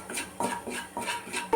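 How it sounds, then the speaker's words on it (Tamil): A spoon stirs and scrapes a chili powder, garam masala and salt mixture in a metal pan for egg biryani, giving a few short close clinks and scrapes, no voices. "கொஞ்சமாக மிளகாய் பொடி, கரம் மசாலா, கொஞ்சமாக உப்பு எல்லாம் போட்டு நல்லா வதக்கி விட்டுருங்க."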